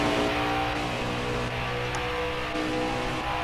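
Race car engine in a Piston Cup league race at Pocono in a racing video game, revving and accelerating loudly and steadily throughout with a dense, continuous roar and no talking.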